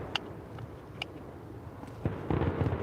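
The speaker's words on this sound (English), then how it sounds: "Yeah, that sound is idiots with fireworks, Lovejoy." Fireworks set off at night near Epping Forest, sharp separate pops and crackles, some distant and faint, then a louder cluster of bangs toward the end.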